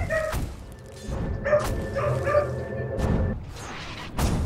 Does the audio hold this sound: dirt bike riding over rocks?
no